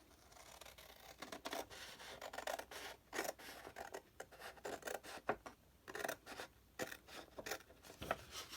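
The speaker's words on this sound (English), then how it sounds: "I'm just going to cut on that line." Scissors cut paper along a drawn line for a Valentine's craft, a close, quiet run of irregular snipping and rasping strokes with short pauses between them and no talk.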